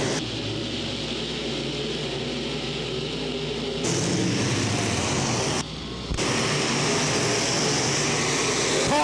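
Open wheel modified race cars roar around Crossville Raceway in a loud, continuous engine drone that briefly drops and then surges back, as from a passing pack, with no voices heard.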